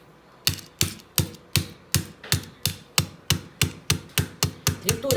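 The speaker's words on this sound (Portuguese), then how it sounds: "Tô aqui com a ponta da tesoura, triturando com o cabinho da tesoura" The handle tip of a pair of scissors pounds a tablet into powder, about sixteen sharp, evenly spaced taps in a fast steady rhythm, close and clear with no talking.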